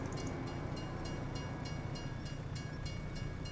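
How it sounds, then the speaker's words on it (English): A train rolls past in the Farming Simulator video game, a continuous loud rumble with faint rhythmic clicking over the rails, steady for the whole stretch with no voices. "Wait for the train to pass."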